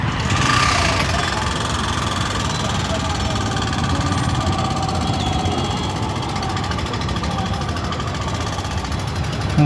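A Royal Enfield Hunter motorcycle engine fires up, then settles into a steady, close, throbbing idle that continues throughout, with a person talking over it.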